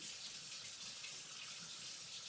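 A kitchen tap running into the sink, a faint, steady hiss of flowing water with no change in level and no voices.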